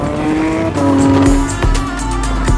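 A Porsche 911 GT3's naturally aspirated 4-litre engine revs hard and close, its high wailing note climbing and holding, with a faint tyre squeal underneath.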